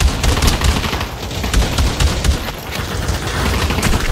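Gunfire in a VR first-person shooter game: a dense, continuous fusillade of rapid close shots with deep thumps throughout, loud and unbroken, with no voices.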